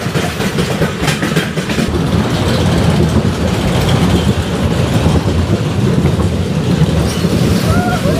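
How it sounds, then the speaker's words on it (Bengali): Roller coaster ride at an amusement park, a loud continuous rumble and rattling clatter of the cars on the track, steady throughout, with faint voices mixed in. "চলে আসলাম রোলার কোস্টার রাইডটা এনজয় করার জন্য।"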